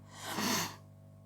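A single sharp sneeze, close and fairly loud, with a breathy burst that quickly fades into quiet.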